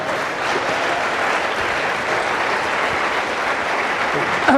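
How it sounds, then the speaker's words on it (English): A festival audience at XOXO 2012 gives a sustained round of applause, loud and even throughout, ending with a brief sharp sound. "I'm getting a round of applause from you people"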